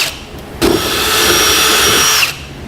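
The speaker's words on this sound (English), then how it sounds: "step my drill bit sizes up until I've reached a 1/2" for those U-bolts to fit through" Power drill boring progressively larger bits up to a 1/2-inch hole for U-bolts during a fifth wheel hitch install on a 2008 Chevrolet Silverado; one loud, steady high whine of nearly two seconds after a faint start, then it cuts off.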